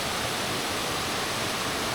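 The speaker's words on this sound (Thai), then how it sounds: "ริมน้ำเลยแล้วน้ำตกก็ไหลมาจากภูเขานะ" Waterfall flowing down from the mountain beside a riverside campsite in the rainy season, a steady dense rushing roar of water with no breaks or voices.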